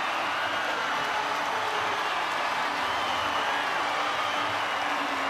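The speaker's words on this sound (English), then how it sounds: "The crowd goes up in Suva" A stadium crowd in Suva roars and applauds a Fijian Drua rugby try, a broad, steady wash of distant cheering that holds evenly throughout without any clear voices.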